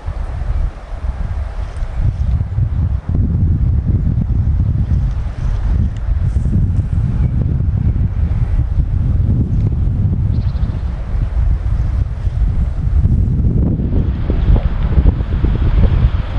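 Strong wind roars continuously across the microphone while trout fishing by water, a heavy buffeting rumble with faint water sounds beneath.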